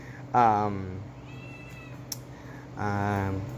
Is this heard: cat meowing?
yes